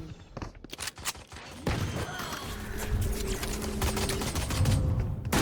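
Video game gunfire in a multiplayer shooter: rapid bursts of shots up front, then sustained firing layered with a droning in-game tone, loud and close.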